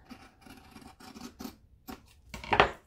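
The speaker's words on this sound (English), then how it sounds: "I really like these scissors." Fabric scissors cut through clutch interfacing in a series of close, crisp snips and rustling slices, irregular in rhythm and ending with a sharper louder cut, with no talking.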